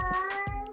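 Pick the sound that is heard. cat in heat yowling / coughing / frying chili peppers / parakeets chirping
cat in heat yowling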